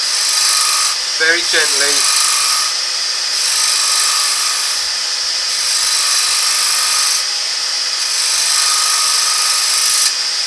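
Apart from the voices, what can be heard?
bowl gouge scraping wood on a lathe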